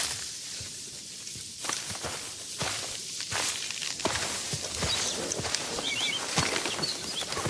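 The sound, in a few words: AI-generated footsteps crunching on forest floor with rustling leaves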